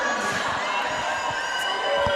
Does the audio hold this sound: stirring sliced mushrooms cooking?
no